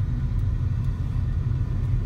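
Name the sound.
road traffic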